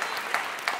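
An audience at an Armenian stand-up comedy show claps, giving a short burst of dense, lively applause.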